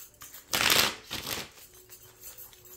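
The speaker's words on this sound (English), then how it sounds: "Let's go ahead and pull some more cards." Tarot cards are shuffled and pulled for a card reading, heard as two quick riffling bursts followed by softer card slides, close and fairly quiet with no talking.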